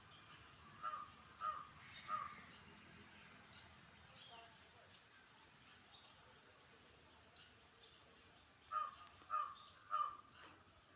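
A crow caws repeatedly outdoors while small birds attack it, the calls coming in spaced bursts of two or three over faint high chirps and a quiet background.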